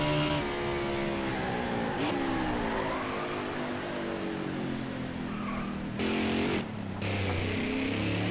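A NASCAR Heat 5 race car on a qualifying lap, its engine loud and near with rising and falling revs as it shifts, plus brief tire squeal, and no voices.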